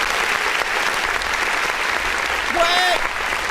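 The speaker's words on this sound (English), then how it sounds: "Let's go ahead and hit that clap button." Canned applause plays from a clap button on a music review show, a steady, full crowd-clapping sound held throughout, with a brief vocal whoop near the end.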